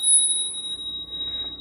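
A bicycle bell on a Surly Lowside singlespeed fat bike rings once up close with a clear sustained metallic tone that slowly decays over a quiet background.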